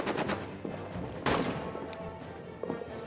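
Rifle shots and gunfire in the World War I trench game All Quiet in the Trenches, with several sharp cracks at the start and a louder blast midway, all over a steady background din.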